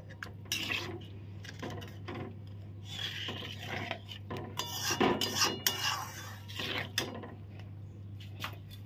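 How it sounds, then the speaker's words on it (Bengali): A lid goes onto a pan of prawn malai curry simmering in coconut milk, with scraping, clinking metal contacts and rubbing handling sounds over a low steady hum, a sharper clatter near the middle. "দিয়ে এখন একটু ঢাকা দিয়ে দেবো।"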